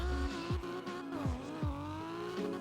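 BMW M4 in the Roblox game Fix It Up on a drag strip run, a buzzing engine climbing through the revs with quick gear shifts, steady and fairly faint.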